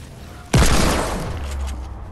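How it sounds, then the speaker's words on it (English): A single loud gunshot goes off suddenly and close in a video game shooter, followed by a booming tail that slowly fades. "Oh, he shot me."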